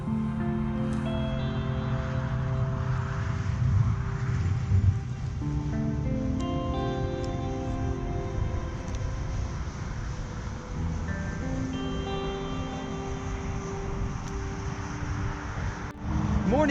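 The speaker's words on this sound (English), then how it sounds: "Sorry about any car noise that you might be hearing" Steady traffic from the I-17 highway close behind, out in the Agua Fria National Monument, a continuous broadband roar with a low rumble that runs the whole time beneath scattered tonal sounds.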